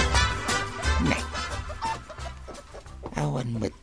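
Chickens cluck close by in short bursts, mixed with people talking and outdoor background noise.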